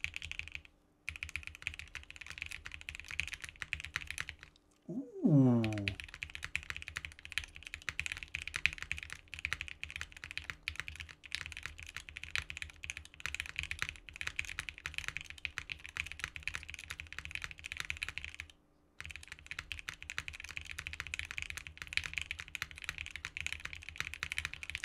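Steady, continuous typing on a Beta60 Evangelion-themed mechanical keyboard with no plate foam, crisp keystrokes clattering close up for the whole stretch, broken only by a couple of brief pauses and one short exclaimed voice.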